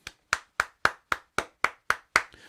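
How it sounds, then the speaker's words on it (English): Nine sharp claps in a steady, even rhythm from one person giving a short round of applause, close and clear with no talking. "just take the time to give yourself a round of applause"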